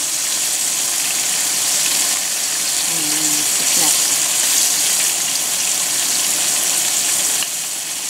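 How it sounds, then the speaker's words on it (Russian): Fish sizzles steadily in hot oil, a continuous hissing crackle with a faint outdoor rumble underneath, cooked outdoors at Lake Keret in cold, windy weather. "На ужин, как обычно, у нас будет жареная рыба."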